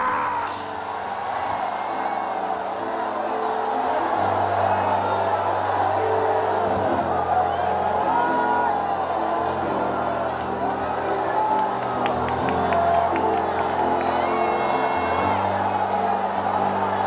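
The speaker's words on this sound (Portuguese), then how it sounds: "Se tem algum pentecostal que acredita nisso aí, dê um grito de glória!" Pentecostal church congregation shouting glory, a sustained roar of many voices with yells and whoops that fills the whole stretch loudly, with amplified sound carrying throughout.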